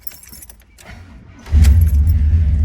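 A 1975 Chevrolet Caprice engine cranks and fires at about the midpoint, settling into a loud, steady low rumble, after a stretch of soft jangling keys and faint handling noises.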